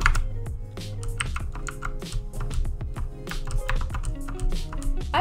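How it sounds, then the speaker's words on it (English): Busy mechanical keyboard typing during a Bedwars game, clicky keystrokes in fast irregular runs, close up, over a faint low background tone. "The sealed keys are just way too dang loud"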